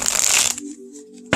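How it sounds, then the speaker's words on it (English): A quick riffle shuffle of a thick tarot card deck, a brisk fluttering burst of cards, followed by a short pause and a soft tap as they settle. "Let's see if we can ruffle shuffle."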